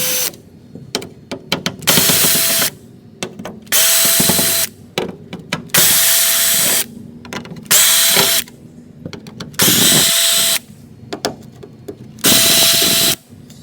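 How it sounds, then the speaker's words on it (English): A cordless electric driver spins out trim screws on a 1971 Mustang Mach 1 during windshield removal, with close, loud bursts of whirring, each a second or so long, coming seven times in a steady start-stop rhythm. "Electric drivers make jobs so much faster."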